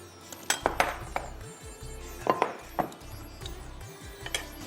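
A metal fork clinks and scrapes against a dish while mixing ingredients for fried buffalo wings in a kitchen. Several sharp, close clinks come in uneven clusters over a low rhythmic scraping.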